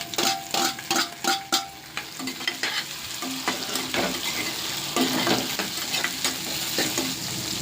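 Tomatoes and green chillies frying for chutney, a loud steady sizzle with brisk metal stirring and scraping strokes against the pan, quick clanks at the start.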